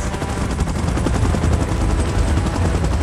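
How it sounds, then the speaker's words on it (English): A helicopter in a monster battle scene, its dense rapid rotor chop loud and continuous, mixed with heavy rumbling action noise. "Chopper in position."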